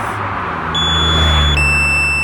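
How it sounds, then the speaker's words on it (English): A drone controller's alarm sounds as steady, high-pitched electronic tones that step up partway through. Low engine-like hum and wind noise run beneath it outdoors. "There's the alarm shouting at us."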